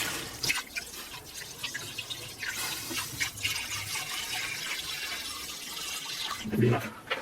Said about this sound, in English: We'll fill it with water.